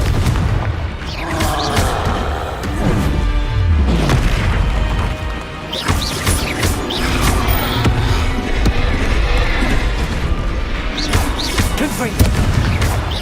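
Repeated Confringo fire-blast spell explosions in Hogwarts Legacy, a run of loud booming bursts and crashes spread through the passage amid dense combat noise, with a voice calling out spell names over them.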